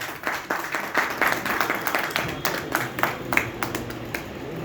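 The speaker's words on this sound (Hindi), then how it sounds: "जोरदार ताली हो जाए सर के लिए" An audience at a marketing meeting in Gorakhpur claps for a speaker, a lively burst of many hands with sharp individual claps flickering through an irregular rhythm. It sits close and steady, then eases slightly near the end, with no voices.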